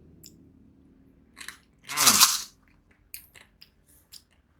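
Sweet cheese-flavoured Mie Kremes, a dry noodle snack, gets one loud crunchy bite, followed by several smaller crisp chewing crackles in an otherwise quiet setting.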